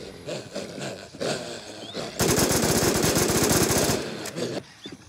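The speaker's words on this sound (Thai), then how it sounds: "ผมใช้ปืนตะปูอันนี้อยู่ค้ำมาอยู" A nail gun firing in the video game Infest, heard as a rapid, loud burst of sharp repeated shots lasting under two seconds, preceded by rumbling game sounds and brief louder noises.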